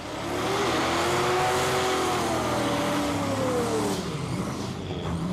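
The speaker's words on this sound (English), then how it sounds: "Gary is off very fast and almost touching the centre line there" A Street Eliminator drag racing car at the National Finals launches down the strip. The engine roars loud and close, its pitch sweeping upward as it accelerates, then fades slightly at the end.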